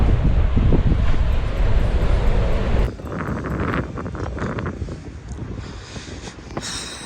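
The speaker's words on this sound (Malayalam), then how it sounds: "നല്ല കാറ്റുണ്ട്." Wind blows hard across a beach in Brazil, a loud buffeting rumble on the microphone that eases partway through into a softer, steadier rush with faint surf-like hiss.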